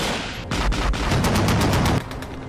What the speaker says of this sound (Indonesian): setiap jam terdengar tembakan